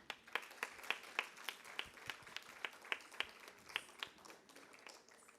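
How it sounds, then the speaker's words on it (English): Audience at a Bharatanatyam arangetram welcomes guests with a round of applause, heard as sparse, distinct claps fairly far off and quiet, ringing out at an uneven steady pace for several seconds. "Let us have a loud round of applause."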